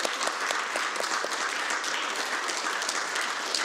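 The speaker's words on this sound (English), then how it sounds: "Please give them a round of applause." Audience applause at a Buddhist dharma talk as two people come up for an award, a brief, steady burst of many hands clapping.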